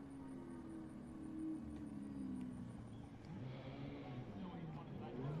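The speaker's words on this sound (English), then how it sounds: "Cars coming into Parc Ferme." F4 U.S. race cars roll slowly into parc ferme at VIR, a low, steady engine drone with a wavering pitch, heard at a moderate distance.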